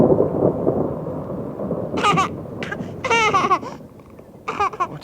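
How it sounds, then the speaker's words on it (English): A thunderstorm rumbles in a radio drama, a deep rolling roar of thunder and rain filling the opening seconds before fading, followed by short bursts of a baby's laughter and babbling. "The storm must have woken him."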